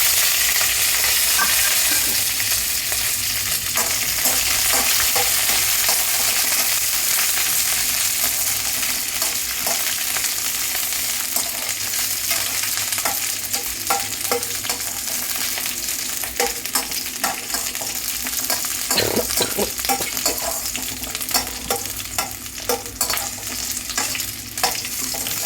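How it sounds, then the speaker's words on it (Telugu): Green chillies fry in oil in a pan, giving a steady, loud, close sizzle that runs unbroken throughout, with occasional stirring scrapes and small pops. "నేను ఇప్పుడు పచ్చిమిరపకాయలు వేసి వేయించుతానండి."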